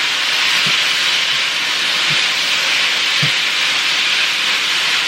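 Sauce for rice noodles with crispy chicken being stirred together in a pan over low heat gives a steady, even sizzling hiss throughout, with a few faint soft knocks underneath.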